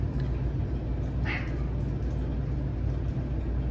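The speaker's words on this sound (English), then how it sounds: "He's the sassiest cat I've ever met." A cat gives a single short meow near the middle, heard over a steady low rumble of background noise.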